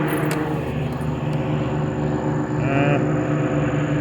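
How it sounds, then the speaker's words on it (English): A formation of small light planes, like Piper Cubs or Cessnas, drones overhead with a steady layered engine hum, fairly loud and continuous, with a brief higher whine partway through. "we got a formation of planes right now flying above"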